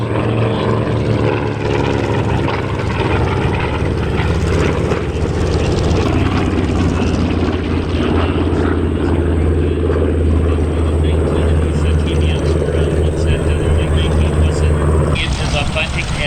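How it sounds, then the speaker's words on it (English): A TBM Avenger with a heavy radial engine flies down an air show line, a loud, sustained propeller drone that dominates throughout, with a voice talking over it. "TBM's coming down the show line."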